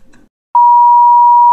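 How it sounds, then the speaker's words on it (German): A single loud, steady electronic tone masks speech in a German vlog, starting abruptly after a brief murmur of talk and holding unbroken for about a second. "Das piepst sich raus."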